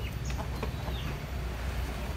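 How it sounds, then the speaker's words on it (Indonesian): Bangkok fighting chickens clucking and calling in a busy farm coop, with steady low background noise and a few faint higher bird calls scattered throughout. "ini kita lagi di peternakan ayam bangkok punya Om Wahyu Desa Pesantren teman-teman."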